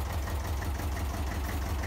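The diesel engine of a 1966 Fuchs 301 cable excavator, restored to running order, idles steadily with a deep, even rumble and a low knocking throb, heard close up and alone.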